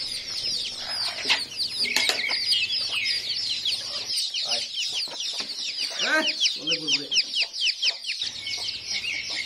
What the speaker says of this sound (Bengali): দেশি মুরগিগুলো কিন্তু এত সহজে পোষ মানে না